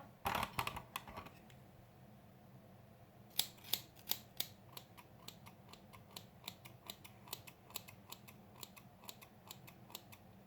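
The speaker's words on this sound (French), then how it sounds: "Je vais la recouper cheveux secs." Scissors cutting dry hair, a dense cluster of crisp snips at first, then a steady run of close, distinct clicks in a quiet room.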